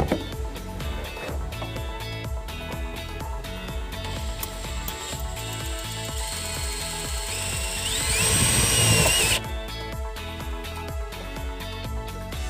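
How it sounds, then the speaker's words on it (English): A power drill bores into an interior panel of a 2013 Buick Verano during trailer wiring installation, a buzzing whine that swells louder near the end before cutting off, heard alone without talk. "there's nothing that I'm going to hurt at all by drilling into this panel here"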